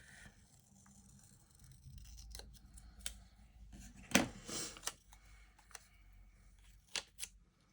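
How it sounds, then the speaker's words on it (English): Scissors snip a small square off a sheet of planner paper, with a few crisp, close cuts and light paper rustling in an otherwise quiet room. "I think we're gonna cut this little square off"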